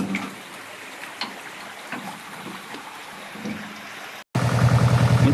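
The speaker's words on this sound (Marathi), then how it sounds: "आता बघा तुम्ही केवढ्या पाण्यातून निघते ही ट्रॉली" Water sloshing and splashing as a small tractor-drawn trolley loaded with coriander crosses a river where there is no road, a steady wash that grows louder and denser near the end.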